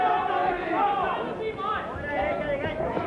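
A boxing arena crowd keeps up a loud, continuous roar of chatter and shouting, with excited voices rising and falling throughout.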